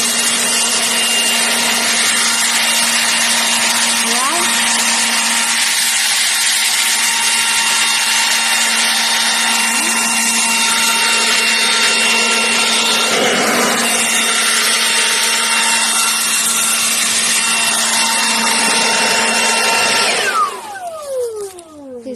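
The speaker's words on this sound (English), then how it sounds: "This is a cordless blower." Milwaukee cordless leaf blower running continuously at high speed, a loud steady whine with tonal hum for about twenty seconds before winding down near the end, no voices.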